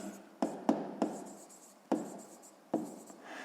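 An equation for a sixth-grade math exercise is written by hand, with about five distinct scratchy strokes at uneven intervals, each a quick close scrape fading out, and no speech.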